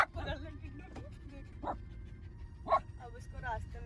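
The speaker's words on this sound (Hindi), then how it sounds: "अब उसको रास्ते में सारे कुत्ते दिख रहे हैं।" Dogs along a road let out a few short, scattered barks and yips, soft and somewhat distant, spaced irregularly over a low background rumble.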